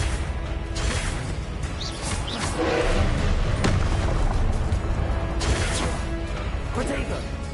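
Blasting bursts from the Confringo spell in Hogwarts Legacy, several sharp crashes under a dense, continuous layer of game combat noise, with the strongest hit near the middle and a voice talking over it.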